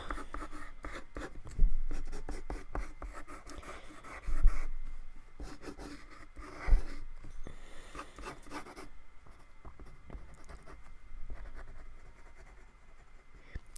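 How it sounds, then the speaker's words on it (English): Number 2 pencil sketching on paper: steady scratchy graphite strokes of varying length, close and fairly quiet, with a few heavier marks standing out. "Grab a simple number 2 pencil over here, and I'm gonna start sketching"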